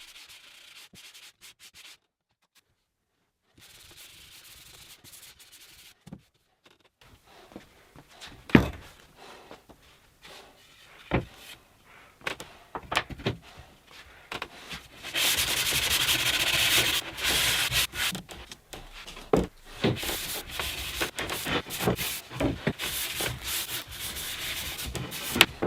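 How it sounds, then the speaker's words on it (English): Wooden shelf edges are sanded by hand with P180 to P320 sandpaper, producing irregular scratchy rubbing strokes with a few knocks. The strokes start sparse and soft after a quiet stretch, then grow into a denser, louder scrubbing run toward the end. "I'm soldiering on by hand, starting with P180 and working through to P320 on the cut edges."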